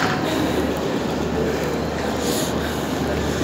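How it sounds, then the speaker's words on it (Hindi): The Nanda Devi Express, train 12205 Up, bound for Dehradun, rumbles steadily as it runs, a loud continuous roar of wheels and carriage noise heard from on board, with no talk. "ये लीजिए नंदा देवी एक्सप्रेस 12205 अप"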